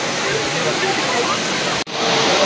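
Jhari waterfall near Mullayanagiri in Chikmagalur, a steady loud broadband roar of falling water heard up close, continuous apart from a momentary cut.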